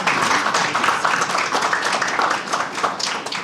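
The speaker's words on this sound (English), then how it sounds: "Let's give them a round of applause." An audience applauds at the close of a panel discussion during an entrepreneurship week event, steady dense clapping throughout at fairly close range.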